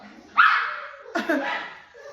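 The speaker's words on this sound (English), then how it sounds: "there my dogs go" Dogs bark in two short bursts, close by and fairly loud, in a home setting.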